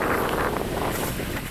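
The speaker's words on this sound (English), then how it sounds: "Whipping winds, floods, and fury, lashing communities along a path carved by Hurricane Laura just 6 weeks earlier." Hurricane-force winds roar in a dense, steady rush with buffeting against the microphone, loud and continuous throughout the short span.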